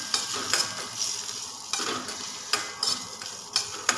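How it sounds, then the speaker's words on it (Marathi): Khondbali being stirred and tossed in a pan with a little oil, a Marathi breakfast snack: repeated scraping strokes of a spoon against the pan over a steady soft sizzle, close and moderately loud, with no voices. "सगळ्या गोष्टी वर खाली करून हलवून घ्यायचं"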